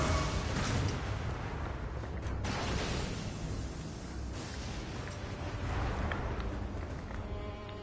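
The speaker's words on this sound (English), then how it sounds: "What the hell's with the extra explosions," Loud, continuous rumble of explosions in Elden Ring on PS5, with heavier blasts bursting out of the dense roar every few seconds.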